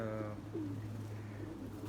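A prize-winning racing pigeon gives a short, soft coo close by, one low throaty call fading into quiet room tone.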